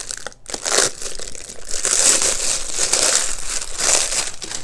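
Packaging for a microsoldering fume extractor is sliced open, producing a steady close crinkling and crumpling of plastic and cardboard that runs throughout, with a brief pause near the start.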